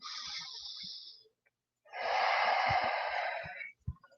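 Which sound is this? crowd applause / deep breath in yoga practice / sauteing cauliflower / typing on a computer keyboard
deep breath in yoga practice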